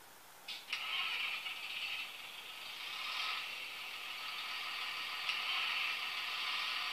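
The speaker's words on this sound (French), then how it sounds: "on entend premier démarrage moteur, deuxième démarrage moteur" A Jouef CC 70002 twin-motor model locomotive's sound engine cranks and catches, then settles into a steady mechanical hum with rattling texture; a second engine start-up surge follows partway through, fairly close and alone.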